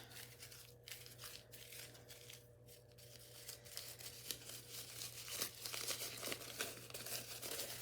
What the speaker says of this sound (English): Let's try a couple of the same book where we crumple them first.